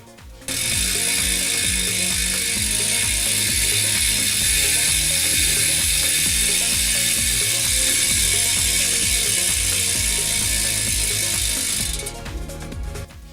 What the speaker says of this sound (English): listen to how the bushing sounds in principle.